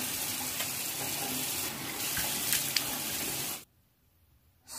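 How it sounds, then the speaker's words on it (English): Tap water runs steadily into a sink while a face is rinsed, a close, loud splashing that cuts off briefly and then starts again. "And then when you rinse your face, it washes all off."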